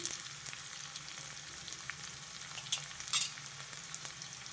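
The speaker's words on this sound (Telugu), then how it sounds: "తాలింపులో ఈ వెల్లుల్లిపాయ ఉల్లిపాయ బాగా వేగితే" Garlic and onion frying in tempering oil give a soft, steady crackling sizzle with a few small clinks and brief spurts, faint and even throughout.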